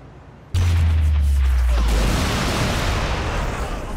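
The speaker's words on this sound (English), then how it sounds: "we could call it an airstrike" Airstrike explosions in the Saints Row: The Third video game: a sudden massive boom with deep rumbling bass, followed by a long roaring, crackling blast that slowly fades.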